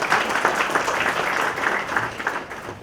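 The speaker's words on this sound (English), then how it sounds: "This deserves a big round of applause." Applause from a seated audience at a business excellence awards ceremony, a steady wash of many hands clapping at moderate loudness, slightly fading toward the end.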